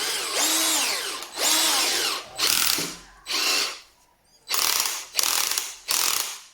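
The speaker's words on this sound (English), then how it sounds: "That means it has a mechanical clutch that controls the torque level when you are screwing in things." An Einhell TE-CD 18/40 Li cordless drill runs in repeated bursts, its mechanical torque clutch slipping with a loud rapid ratcheting clatter, stopping and starting several times.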